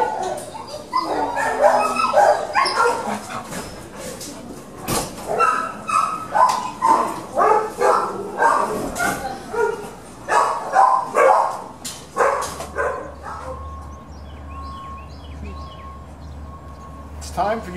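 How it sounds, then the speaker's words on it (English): Big dogs bark, yip and whimper in kennels, a rapid run of loud close barks with people talking over parts of it and a quieter stretch near the end. "big dogs in the kennels."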